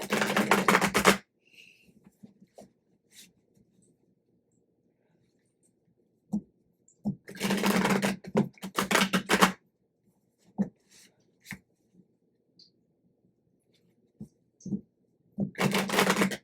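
A tarot card deck is shuffled by hand in short bursts of riffling and flapping cards, separated by quiet pauses and scattered light taps, close and clear.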